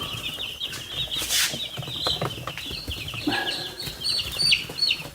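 Chickens cluck and murmur close by, with a burst of wing flapping and scattered rustling among the flock.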